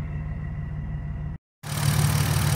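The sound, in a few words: BMW E46 engine idling on E85, injectors ticking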